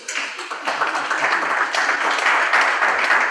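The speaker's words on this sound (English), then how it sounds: "Another round of applause for the CEO's performance" An audience at a university law society's Lawyers' Day event applauds a CEO's performance, a dense, steady wash of many hands clapping that swells slightly and stays loud throughout.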